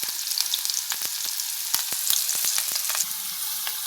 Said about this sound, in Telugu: గోల్డ్ కలర్ వచ్చేంత వరకు ఫ్రై చేసుకోవాలి